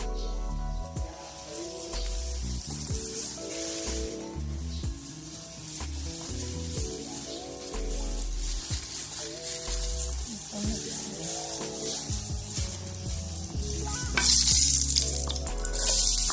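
Oil heats in a pan for ampalaya con carne at a beach resort, giving a continuous crackling sizzle with tonal, music-like sounds layered underneath throughout.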